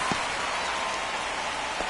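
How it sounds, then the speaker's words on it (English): Steady rain falls in a baseball video game, a constant hiss of drops on the field with faint thuds now and then. No voices are heard during it. "This rain is not letting up."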